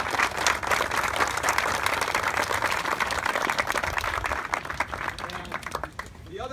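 An audience at a re-election campaign announcement gives a round of applause, loud and dense clapping that holds steady and then thins slightly toward the end, with some voices mixed in.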